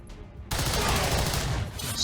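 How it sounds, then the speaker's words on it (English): Gunfire from a soldier's weapon in the XCOM 2 strategy game, Long War of the Chosen mod: silence, then a loud sustained burst of rapid shots beginning abruptly and rolling on for over a second with heavy rumble. "Let's have you shoot this one."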